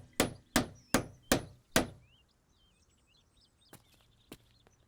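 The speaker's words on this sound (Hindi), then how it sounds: "इतना शोर क्यों मचा रहा था? यह हथौड़ा किस लिए?" Five sharp, evenly spaced hammer blows ring out close and loud, then stop, leaving faint birdsong and two softer knocks afterward.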